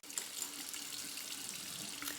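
Warm water runs steadily from a sink tap, a soft, continuous, close splashing stream with slight gurgles and no pauses.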